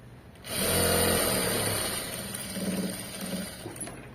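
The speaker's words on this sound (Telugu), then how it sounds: "ఇలా ఫోల్డ్ చేసేసుకుని స్టిచ్ చేసుకుంటూ వెళ్ళిపోవాలి." A sewing machine stitches along a folded fabric seam, a rapid mechanical whirring burst that starts sharply, runs steadily for a few seconds, then slows and tapers.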